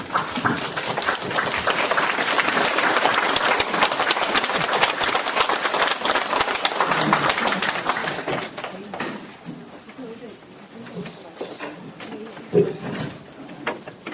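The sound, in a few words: audience applause welcoming a professor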